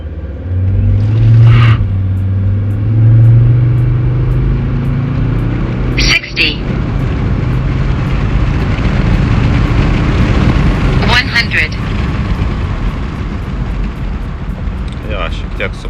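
A car with a retuned engine program launches hard from a standstill to 100 km/h, a loud steady engine roar rising through the run with brief breaks at gear changes, heard from inside with voices over it.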